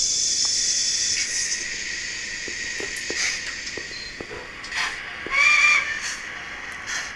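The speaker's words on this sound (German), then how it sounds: "Wir machen jetzt einfach mal das Dampflokgeräusch und fahren mit dem Wagen." A Viessmann powered low-side model railway wagon plays a steam locomotive sound: a steady hiss with soft rhythmic chuffing and short tonal squeals, close and moderately loud.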